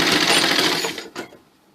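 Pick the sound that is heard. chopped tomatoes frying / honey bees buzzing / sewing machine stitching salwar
sewing machine stitching salwar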